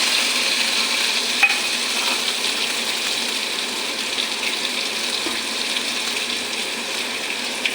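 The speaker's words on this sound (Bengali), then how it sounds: "একটু ঘুরিয়ে জল দিয়ে দেবো মশলাটা ভালো করে কষে নি" Spice paste of onion, cumin, coriander, Kashmiri chilli, garlic and ginger sautéing in a pan, giving a continuous soft sizzle and hiss with a faint clink or two of stirring.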